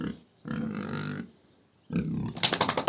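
Two bursts of low, rough grunting from a young pig close by on a village farm, the second run ending in a quick series of pulsing snorts.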